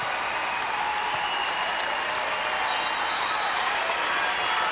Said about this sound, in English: the Winnebago fans will applaud and appreciate the memory of this team